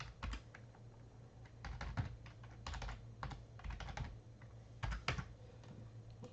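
Rapid, irregular clicking of keys on a computer keyboard, close by, in short bursts with brief pauses, no voices.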